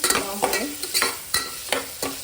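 Egg biryani ingredients sizzle and fry in a pan while a utensil stirs them in quick, repeated scrapes, close and clear with no talking.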